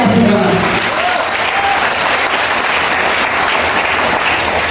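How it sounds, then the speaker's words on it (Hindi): A seminar audience claps in a big hall. The applause is loud and close, a thick, sustained burst that keeps the same intensity throughout with no voices on top. "एक बार जोरदार ताली बजा के दिखा दीजिए।"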